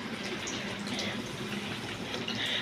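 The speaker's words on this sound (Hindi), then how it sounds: "तो अभी हम पानी डालेंगे।" Water gushes steadily into a cooking pan for pasta on a stovetop with a high flame, a continuous close splashing pour with no talking.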